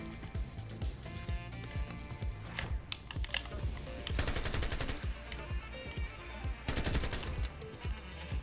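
Rapid assault rifle bursts in the online shooter Ironsight, FAMAS G2 and AUG in play, crackling in quick repeated volleys over game music and effects, some bursts louder and denser than others.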